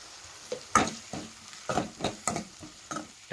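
A spoon stirs tomatoes and salt frying in a pan for brinjal curry, making about eight separate scraping swishes at an irregular pace over a soft sizzle, close up.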